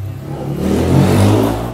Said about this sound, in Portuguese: Deixa a moto passar, peraí.